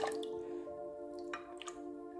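Water dripping and trickling from a Lego Duplo bath toy scoop, with a few soft, quiet splashes and squishy drips over a low steady background hum.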